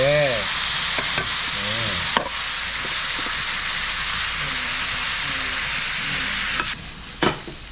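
Loud, continuous sizzling and stirring of sliced pork belly stir-frying in a hot pan, with occasional scraping clanks of a utensil against the metal.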